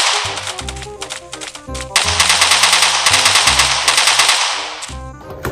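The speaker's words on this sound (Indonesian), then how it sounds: "Wow, ada pistol-pistolan juga teman-teman." A toy pistol firing rapid, loud mechanical bursts of clicking shots, with a short pause before a longer sustained rattle, and no talk.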